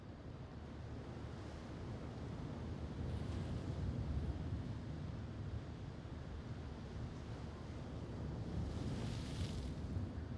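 Ocean waves roll in a video game, a steady broadband wash of surf with gentle swells in loudness across about ten seconds, heard on its own with no voices.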